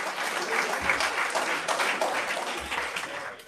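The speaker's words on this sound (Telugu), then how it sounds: "give him a big applause" Audience applause at a university IPR program event at DSNLU, a dense, steady wash of many hands clapping throughout, fairly loud and with no talk over it.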